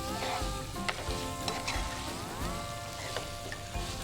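Steamed semolina (suji) balls are tossed into a sizzling tempering in a pan, giving a steady close hiss with light scrapes and occasional clinks of a spoon, without talk.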